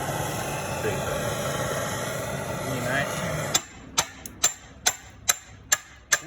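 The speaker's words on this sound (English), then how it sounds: "You heat the fuck out of them and then you bash it." Heated suspension bushings being knocked out: a steady roaring wash of heating noise gives way to about seven sharp, evenly spaced metal hammer blows, close and loud, with no talk.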